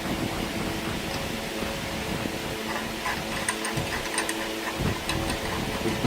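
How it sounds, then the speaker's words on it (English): Repeated metallic clicks and ratcheting from an internal bearing extractor being fitted and tightened on a BMW S1000RR motorcycle with its stator cover removed, a close, steady mechanical tapping over a constant background hum. "So this is what's called an internal bearing extractor."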